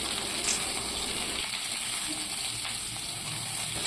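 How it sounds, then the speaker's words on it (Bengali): Ridge gourd and potato pieces fry in a pan, giving a steady, dense hiss of oil that runs unbroken and fairly loud from start to finish, with no voices. "ঝিঙে আর আলু ভালো করে ভেজে নেব।"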